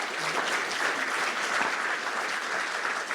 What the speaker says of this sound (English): So I'd like to encourage us to give a big round of applause to first our fire chief, Isaacs,